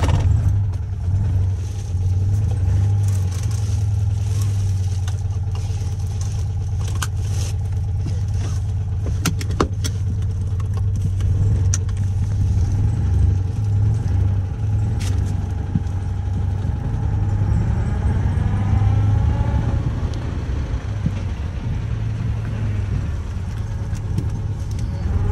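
A Citroen Ami 8 engine runs at a steady, low idle throughout, a continuous close drone with faint clicks and rattles on top and no talking.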